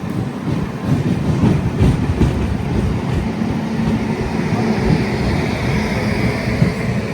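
A MEMU local train pulling out of Kanchipuram station, steady rolling rumble with rhythmic wheel clatter and rail noise, heard from inside the carriage, continuous and fairly loud with no talking.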